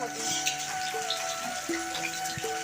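Steady rain patters and hisses continuously, with a faint tonal hum running underneath.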